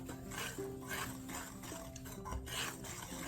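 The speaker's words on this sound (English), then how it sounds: "Give it a good whisk and mix everything up" Spices being whisked into a bowl of dry gluten-free cake mix, with a soft, continuous scraping and rustling under a steady tonal hum, faint and close.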